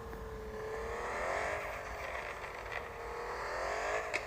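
A car engine in the video game Car Parking revs continuously, its pitch rising and sagging in smooth sweeps over a few seconds, loud and alone without voices.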